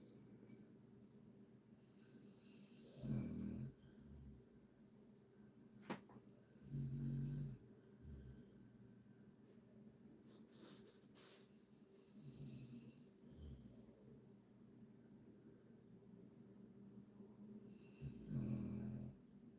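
Sleeping dog snoring indoors, slow rhythmic rumbling snores every few seconds, faint and close, with soft breathing between them and quiet background clicks.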